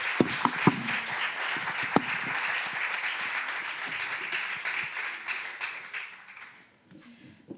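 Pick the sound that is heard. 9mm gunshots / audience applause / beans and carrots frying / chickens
audience applause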